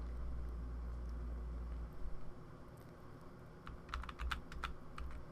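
Several quick, light keypresses on a computer keyboard, as cursor keys are tapped while working in Photoshop Elements, coming in a short irregular cluster after a quiet stretch.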